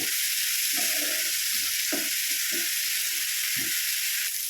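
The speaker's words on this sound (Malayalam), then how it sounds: "ഇതിലും ഉപ്പിട്ടിട്ടുണ്ട് ഒന്ന് വാട്ടിയെടുക്കാം" Salted bitter gourd sautés in a pan with a steady, close, bright sizzle. Soft scraping and clinking from stirring come through at intervals beneath the hiss.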